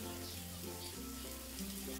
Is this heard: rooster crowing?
no